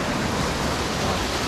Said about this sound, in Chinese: 呢個咁靚嘅瀑布噶啦